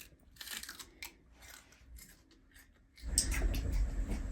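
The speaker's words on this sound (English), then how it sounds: "Baby J is home from school, eating her celery" A child bites and chews raw celery stalks, crisp crunches coming in bursts before a louder, denser stretch of chewing close to the mic.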